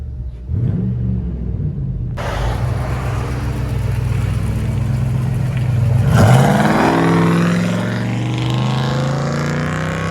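Inside a 2007 Dodge Ram 2500 HEMI with dual straight pipes, a heavy exhaust rumble rises into sustained revving and then a harder surge, deep and loud throughout, with no voices.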